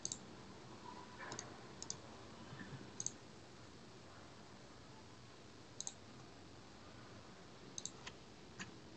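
A computer mouse clicking quietly a few times at irregular intervals during work in VisualSVN software, with faint single and double clicks over a low steady hiss.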